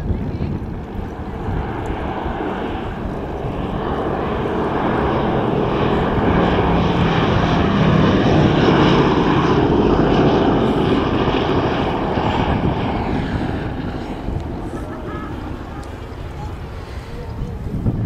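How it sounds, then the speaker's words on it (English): Boeing B-17F Flying Fortress bomber flying past at an airshow, its four radial propeller engines giving a deep droning roar that swells to a peak midway and then fades away, with a commentator speaking over it. "the Boeing B-17F, Sally B, the only Boeing B-17, the flying fortress, still flying in Europe"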